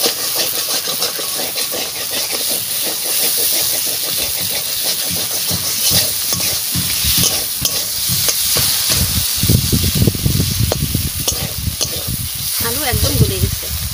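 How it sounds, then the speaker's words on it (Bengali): Potatoes with spices frying and being stirred in a pan, with a loud continuous sizzle and hiss, scraping stir strokes, and occasional talk over the cooking noise. "আলু কটা ভাজিয়ে নিচ্ছি"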